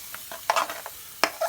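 A large spoon stirs chicken tikka masala curry frying in a pan, making a few quick scraping strokes over a soft, steady sizzle, close up.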